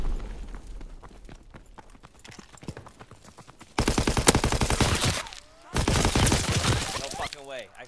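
Call of Duty WWII gameplay with bursts of rapid gunfire, quieter shots at first and then two loud stretches of sustained automatic fire broken by a short pause.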